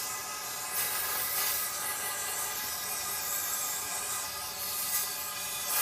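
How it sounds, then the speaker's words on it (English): A steady, hissing spray of cleaner directed in controlled bursts into the throttle body of a 2003 Cadillac CTS, close up and fairly loud, running continuously with slight surges and no talk over it. "I'm trying to use the controlled spray on this."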